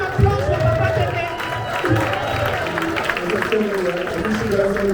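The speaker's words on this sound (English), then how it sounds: "Please, a round of applause for Papa Tepe." Guests at a traditional wedding reception in Boston applaud and cheer in a noisy hall, steady clapping mixed with crowd hubbub and voices over about five seconds.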